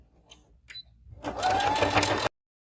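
Sewing machine stitching along the edge of a wristlet bag strap: after a couple of faint clicks, a brief close whirring run of rapid stitches builds and then stops abruptly.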